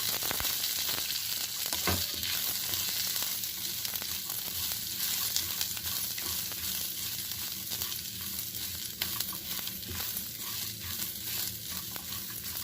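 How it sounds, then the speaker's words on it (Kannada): Garlic frying in oil in a pan for a ginger-garlic thokku, a dense continuous sizzle and crackle with occasional stirring knocks, close and steady with no talk throughout. "ಈಗ ಬೆಳ್ಳುಳ್ಳಿ ಹಾಕಿದ್ದೀನಿ ಇದಕ್ಕೂ ಒಂದು ಸ್ವಲ್ಪ ಎಣ್ಣೆ ಹಾಕ್ತಾ ಇದ್ದೀನಿ ಇದನ್ನು ಅಷ್ಟೇ ಹದವಾಗಿ ಹುರ್ಕೋಬೇಕು"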